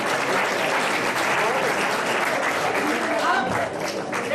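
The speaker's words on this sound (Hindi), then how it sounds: "लड़कों के लिए तालियां बजाए, बजा ली, दोबारा एक बार फिर बजा दे" An audience at a Women's Day event at CDLU Sirsa bursts into loud applause, with dense clapping that fills the whole stretch without a break.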